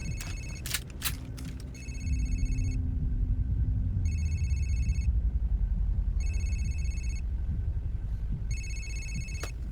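A mobile phone rings in four evenly spaced electronic tone bursts, each lasting under a second, over a steady low rumble, after a few sharp knocks at the start.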